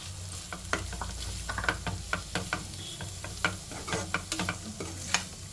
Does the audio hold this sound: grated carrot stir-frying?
yes